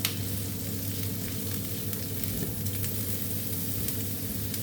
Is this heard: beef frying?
yes